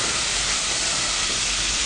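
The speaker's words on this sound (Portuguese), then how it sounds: "Na hora aqui que tá fritando o alho, isso, que tá fritando a cebolinha." Garlic and spring onion frying in melted butter in a hot pan, giving a loud, steady, close sizzling hiss with no pauses.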